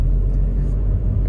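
A car engine runs in third gear after being shifted without the clutch, giving a loud, close, steady low rumble throughout.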